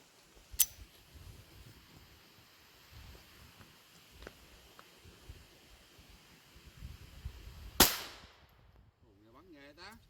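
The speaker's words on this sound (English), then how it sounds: "All right, time to shoot it. 22 long rifle." A .22 Long Rifle fired at a flashlight outdoors, one sharp, loud crack standing alone against quiet background noise, with a smaller click earlier.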